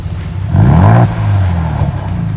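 Nearby, a 2024 Ford Bronco Raptor blips its throttle in Normal exhaust mode, exhaust rising sharply then holding a lower drone before idling down, loud and close.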